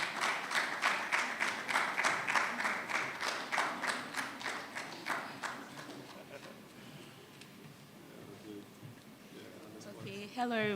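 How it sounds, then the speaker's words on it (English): A round of applause at an architects' institute general meeting, moderate rhythmic clapping from the gathered audience that fades after several seconds into quiet room murmur, with a voice speaking near the end. "Please welcome with a round of applause."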